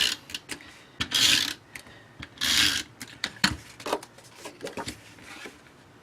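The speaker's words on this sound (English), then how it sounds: "So I'm just adding some snail adhesive to the back of that." Short scratchy bursts and clicks of a snail adhesive tape runner pulled across the back of a cardstock layer for a handmade card, close and intermittent with brief rasping swipes.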